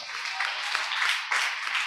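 A church congregation at a Sunday sermon claps together, a soft, steady patter of many hands heard at moderate distance with slight swells in rhythm.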